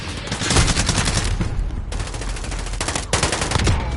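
Sustained loud automatic gunfire in a video game battle, dense rapid bursts from several weapons overlapping close by with only brief gaps.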